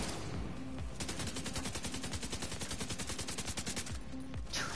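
Sustained automatic gunfire from The Division 2 rattles in a rapid, even burst for about three seconds, framed by shorter volleys at the start and end, loud and close with no talking.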